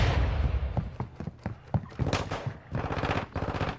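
Gunfire in the battle royale game Warzone, rapid bursts of automatic fire and single sharp shots cracking out in uneven clusters, loud and close with no voices.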